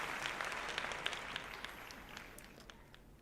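Crowd applause from the strategy game Manor Lords, dense clapping that holds briefly and then thins and fades over a few seconds, heard without voices.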